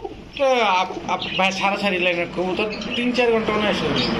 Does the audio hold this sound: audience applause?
no